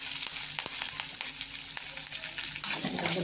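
Turmeric, curry leaves and chopped coriander sizzle and crackle in hot oil in a pan, a steady close frying hiss with a few sharp spatters and scraping stirs, no voices.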